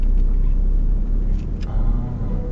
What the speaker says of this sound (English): I think traffic.